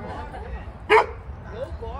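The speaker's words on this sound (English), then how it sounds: "No barking here" A single sharp dog bark rings out nearby over low background noise.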